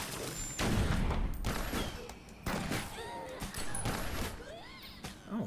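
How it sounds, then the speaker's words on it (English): Several loud shotgun blasts boom in bursts during a Secret World Legends zombie fight, mixed with crunching impacts and scattered electronic game effects. "Oh, he's got a shotgun"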